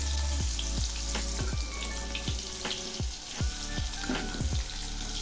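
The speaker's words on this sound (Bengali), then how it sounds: "ভাজা প্রায় হয়ে আসছে।" Steady crackling sizzle of cauliflower frying in hot oil, with repeated clinks and scrapes of a utensil against the pan, close and continuous.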